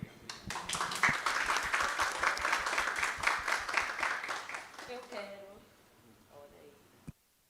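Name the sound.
applause from the audience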